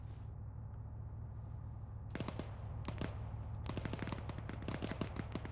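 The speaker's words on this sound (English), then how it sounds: "Shots fired." Gunfire in the military shooter Arma 3: bursts of automatic weapon fire and scattered single shots, some distant, crackle over a steady low ambient rumble, growing denser toward the end.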